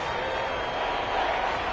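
A steady, loud football stadium crowd roar in a video game fills the space without a break, a constant wash of distant cheering and noise.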